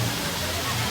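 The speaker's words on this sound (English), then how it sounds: "Over here we have a big splash pad for the kids." Water sprays and splashes continuously at a big beach splash pad, a loud, steady rush with a voice briefly audible over it.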